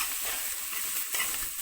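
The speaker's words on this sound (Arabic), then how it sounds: "هنزل بالثوم كده اهو مع البسله كده مع البصله" Minced garlic hitting hot oil with peas and onion in a pan, giving a steady, close sizzle that holds evenly throughout with no voices.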